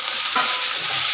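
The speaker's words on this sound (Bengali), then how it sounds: "তো শাকটা ভেজে নেব, পেঁয়াজ রসুন জিরে আর লঙ্কা দিয়েছি, ভাজা হয়ে গেছে।" Greens fry in oil with onion, garlic, cumin and chilli, giving a steady close sizzle with a brief stirring scrape partway through. No one speaks.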